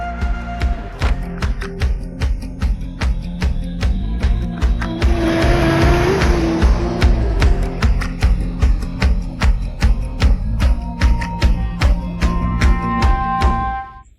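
A car drives along loudly with rhythmic engine and road noise, building in the middle and continuing steadily before it cuts off abruptly at the end, with no voices.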